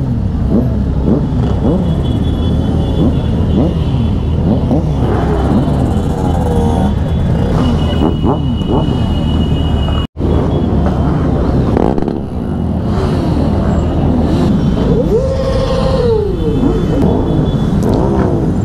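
Motorcycles ride along the road on a Santa Claus group ride, with loud, close engine rumble rising and falling through repeated revving and gear changes, a brief dropout partway through, and no talking.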